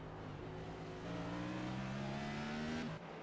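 Next Gen NASCAR stock cars on the Indianapolis road course in iRacing, engines droning steadily with pitch climbing over a few seconds, then a quick drop as they pass; no one talks.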